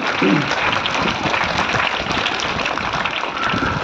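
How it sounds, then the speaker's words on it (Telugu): An audience at a Christmas Eve church gathering claps for the children, a dense, fairly loud burst of applause that continues steadily to the end. "గట్టిగా ఒకసారి చప్పట్లు కొట్టి వారిని అభినందించుదాం"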